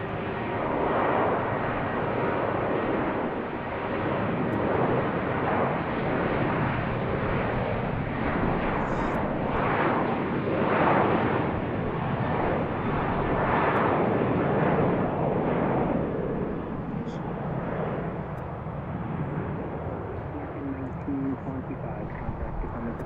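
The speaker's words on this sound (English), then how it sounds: "next out is Southwest 1226 to New Orleans. It's Boeing" A Southwest Boeing 737-800 takes off at BWI airport, its engines a loud, steady, broadband roar lasting throughout with a slow swell and fade.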